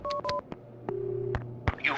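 Telephone keypad tones from Max Payne 2, a quick series of short dialing beeps followed by longer ringing tones, close and clear with a voice briefly audible.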